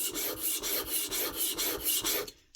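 A file rasps rhythmically back and forth across the blade of a Yuka Mini robot mower as it is sharpened, about a dozen close, even strokes before stopping.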